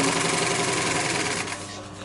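A sewing machine stitching sofa fabric around piping during upholstery, running as a loud, close, continuous whirring drone that eases slightly near the end.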